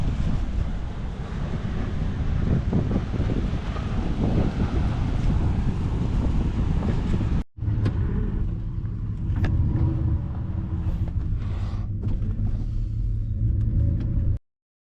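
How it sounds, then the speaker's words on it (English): Car driven fast on a road in Mexico, heard from a camera exposed to the airflow: heavy wind rush and engine roar throughout, a brief cut midway, then a lower rumbling drone. "I like to drive fast here."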